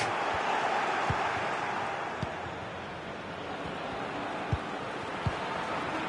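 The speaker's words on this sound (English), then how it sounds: "the rain has been very heavy. It looks as though it's just starting to ease a bit" Heavy rain falls during a FIFA football video game match, a steady hiss of broadband noise with a few faint low thumps. Quiet crowd ambience sits underneath.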